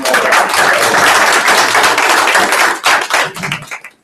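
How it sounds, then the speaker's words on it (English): Round of applause at a sales meeting, a loud, close burst of many hands clapping that holds steady, then thins out and stops after about four seconds. "Let's give him a round of applause."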